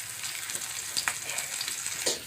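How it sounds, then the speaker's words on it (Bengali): Rohu fish pieces frying crisp in oil, a close, fairly quiet sizzle with small crackles and spatters popping through it, and no talking. "মাছটি ভালো করে ভাজা নিতেছি কড়া করে।"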